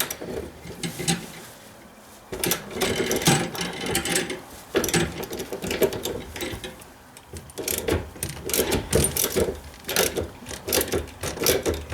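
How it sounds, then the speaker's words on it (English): A socket wrench works loose a nut beneath a Kohler widespread bathroom sink, giving repeated clicking, ratcheting bursts in uneven runs with brief pauses, close up and fairly loud with no talk. "I'm going to use a socket wrench to get this nut off the bottom here."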